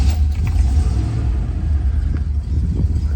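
A 1968 Oldsmobile Delta 88 with a 455 V8 idles steadily, a deep, close, continuous low rumble with a slight lumpy pulse and no talking over it.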